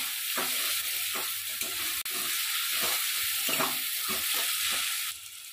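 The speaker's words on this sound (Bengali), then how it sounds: "প্রথমে আমরা রসুন দিয়ে হালকা করে এটা আগে ভেজে নেব, যাতে রসুনের টেস্টটা ভালোভাবে পাওয়া যায়" Garlic fries gently in oil, giving a continuous close sizzling hiss broken by soft intermittent scrapes of a spatula. No one speaks.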